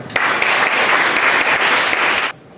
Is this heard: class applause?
yes